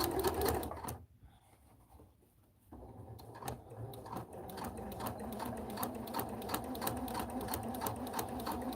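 A home sewing machine stitches fabric for a Halloween princess costume, a close, steady mechanical whirr with rapid needle ticks that briefly drops away before resuming continuously.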